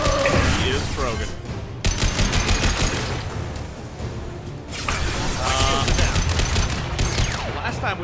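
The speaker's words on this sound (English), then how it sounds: "And there we go, we're under fire." Gunfire and combat in the sci-fi shooter Mass Effect Legendary Edition, with dense bursts of rapid weapon fire and impacts coming in waves, interrupted by short lulls and overlapped by game voices.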